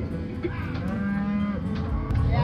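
A herd of cattle moos near a campground at Buffalo Bill Cody Reservoir in Wyoming, with long, loud, drawn-out lowing calls overlapping one another close by.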